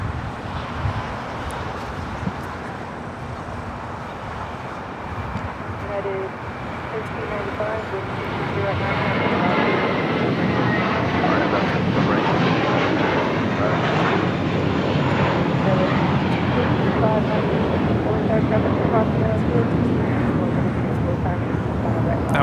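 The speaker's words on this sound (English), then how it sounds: "That was the Element of Surprise taking off to Miami, Florida on an A321 JetBlue Airways Flight 2885." A JetBlue Airways Airbus A321 on its takeoff roll from LAX runway 24 right bound for Miami builds into a loud, sustained jet roar, steady and rumbling, with a voice talking over it.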